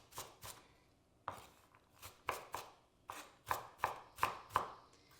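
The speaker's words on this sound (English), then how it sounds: "now you can like kind of take it all together and just chop it all up" Lasagna ingredients roughly chopped with a knife on a board, a run of about a dozen sharp close chops in uneven clusters, with no voices.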